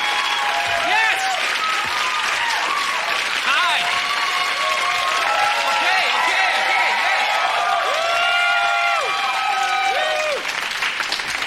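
A studio audience at a sketch comedy show taping applauds and cheers loudly and continuously, with whoops and excited shouts scattered through the steady clapping while a host greets the crowd over it.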